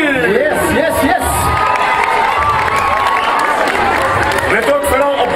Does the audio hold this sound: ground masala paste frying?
no